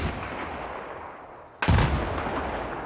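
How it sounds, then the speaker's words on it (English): A single sharp rifle crack from a sniper in the Battlefield 4 video game cuts through a low background rumble and trails into a brief rolling echo. "That sniper rifle cracking"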